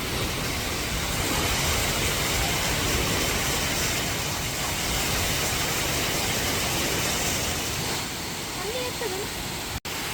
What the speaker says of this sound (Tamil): தியலுமா ஃபால்ஸ்